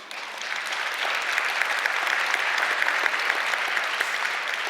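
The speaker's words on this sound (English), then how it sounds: "you clapped" Audience applause at a kidney medical conference's presidential address, a steady, dense clapping that holds loud and even for several seconds with no voices over it.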